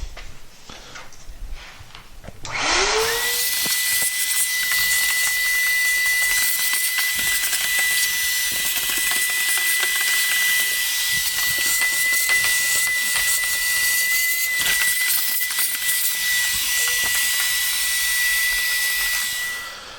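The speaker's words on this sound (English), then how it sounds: "I'm going to vacuum inside." A vacuum cleaner switches on and runs steadily inside a Bosch ductless dryer, a loud constant rushing hiss with a thin whistling tone, close and uninterrupted for most of the time.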